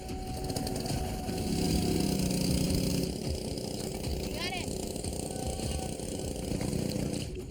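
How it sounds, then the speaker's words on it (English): A gold dredge engine runs on a river, a loud continuous mechanical drone with rattling under people talking nearby. "The dredge makes a lot of noise"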